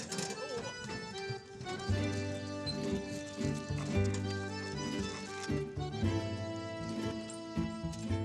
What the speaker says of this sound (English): This donkey-drawn cart fits in perfectly with the rural atmosphere.